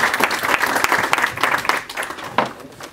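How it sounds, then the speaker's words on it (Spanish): A conference crowd at the Fintech Unconference 2016 claps warmly, a thick, continuous ripple of hands with a few sharper individual claps standing out, no voices on top. "Un fuerte aplauso, por favor"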